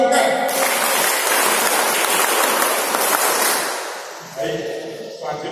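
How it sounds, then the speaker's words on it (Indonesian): A group does the Indonesian scout clap, tepuk pramuka, at a church gathering, with a burst of loud, dense clapping for about four seconds before it fades and a voice resumes. "Tepuk pramuka."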